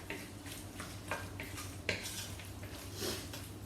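Raw chicken is mixed with garlic powder in a bowl, with a utensil scraping and clinking against the bowl. The strokes come in an uneven rhythm at close range, fairly quiet.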